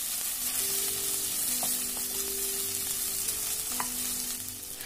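Ginger garlic paste sizzles and fries in a hot pan while being stirred, a dense, steady hiss close up with occasional scraping clinks, no voices.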